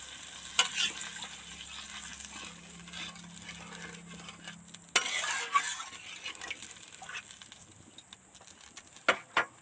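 Snakehead fish curry bubbling and sizzling in a pan after a generous splash of water, a steady hiss with occasional scraping stirs and a couple of louder utensil knocks.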